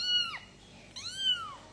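A cat gives two clear, close meows with a short pause between them, each call sliding downward, against quiet room background.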